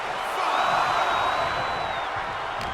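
Arena crowd in the WWE 2K25 wrestling game, a sustained broad roar of cheering with a whistle-like whoop riding over it, steady and fairly loud, with faint voices mixed in.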